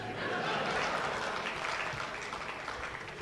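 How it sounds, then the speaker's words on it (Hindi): Steady broadband applause from a poetry gathering audience, a continuous wash of many hands clapping at even loudness for the whole stretch. "केवल उन्होंने ताली बजाई है"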